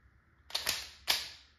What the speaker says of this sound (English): I wanted to fire off some rounds